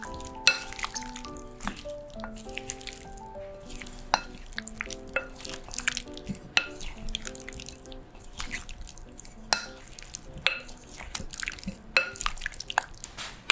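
Cherry tomato marinade with lemon juice and salt being stirred in a bowl, giving soft wet squishes, drips and light clinks of the utensil in irregular bursts, close and fairly quiet, with no talking.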